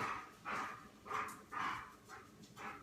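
Several dogs bark in repeated bursts about every half second, close and fairly loud, with a whimpering edge to some of the calls and a low background rumble.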